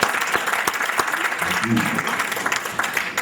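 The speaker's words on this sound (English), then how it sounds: "let's give him a big round of applause" An audience at a live jazz series event applauds for Larry Nash, a dense, sustained round of clapping heard close throughout the clip.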